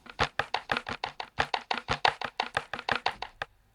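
A drum machine loop made in Monma plays alone: a steady run of about twenty crisp, percussive hits with sharp attacks, evenly spaced in a quick rhythm, close and clear before stopping.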